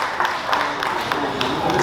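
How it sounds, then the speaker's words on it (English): Applause for an older woman at a 75th birthday celebration for a deaconess, dense steady clapping from a crowd filling the room at an even level throughout. "Let's give her a big round of applause."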